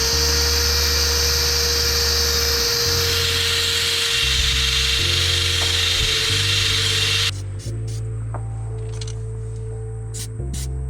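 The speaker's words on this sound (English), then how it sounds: "I'm gonna scratch up the surface of this plate with our little brush" A small rotary wire brush scuffs the surface of a steel floor pan repair plate on a BMW E28 to give primer grip. It makes a loud, continuous high whine with shifting pitch as pressure changes, then eases into lighter scratching toward the end.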